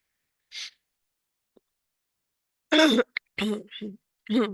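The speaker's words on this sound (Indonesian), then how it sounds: "Saya agak batuk ya, jadi agak serak." A person coughs and clears their throat a few times in short, harsh bursts at close range, with brief quiet gaps between.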